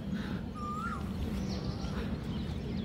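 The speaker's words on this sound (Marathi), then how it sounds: "पक्ष्यांचा आवाज पण खतरनाक येतोय." Morning birdsong at a quiet walking and cycling spot in Pune, with a faint single whistled call and soft chirps drifting over a steady low outdoor rumble.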